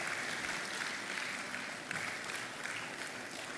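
Steady applause from a conference audience at a retail congress, a dense even wash of many hands clapping that holds at a constant level throughout.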